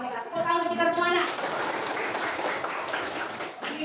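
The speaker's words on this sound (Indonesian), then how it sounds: "Tepuk tangan kita semua, nak." A classroom of children breaks into enthusiastic hand clapping right after a teacher's voice, the applause close and dense and sustained for several seconds.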